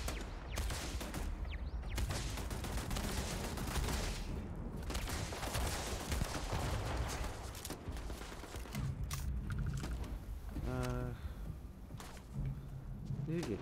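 Gunfire in the space game Starfield: dense, sustained bursts of shots and booms fill the clip, with a brief mechanical rattle near the end and a voice talking over the combat.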